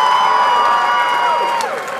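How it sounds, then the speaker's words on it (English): An audience at a drag show bursts into loud cheering, whoops and applause, a dense close crowd roar lasting about two seconds. "Give Bunny a big round of applause."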